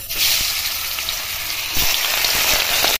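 Fish sliding into hot mustard oil in a wok, a loud, steady crackling sizzle that keeps going for about three seconds before cutting off abruptly, with no voices.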